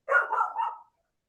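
A dog barks once in a short, fairly faint bark heard alone in a quiet indoor setting, with no talk over it.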